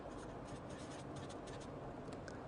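Chalk or marker scratches across a board in a lecture hall, soft rapid strokes in short bursts over a faint room hum, quiet and close.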